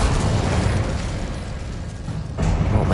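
A burst of fire from the Incendio spell in a video game roars loud and continuous, with a dense crackling rush that dips briefly before swelling again near the end.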